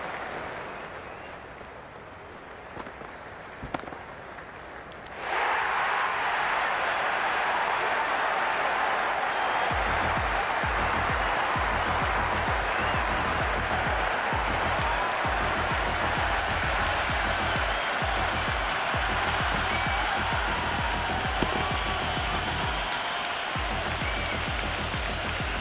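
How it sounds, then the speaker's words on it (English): A stadium crowd in Cricket 26 breaks into loud, sustained applause and cheering after a quieter start, keeping up a dense roar with a commentary voice now and then. "There's an almost tangible fervour throughout the crowd at the moment."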